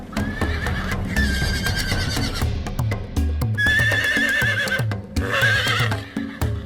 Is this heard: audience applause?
no